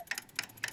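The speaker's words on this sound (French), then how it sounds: "Papy Pig a réparé le coucou" Three crisp, evenly spaced ticks from a cuckoo clock in a Peppa Pig cartoon, close and clear, in quick succession.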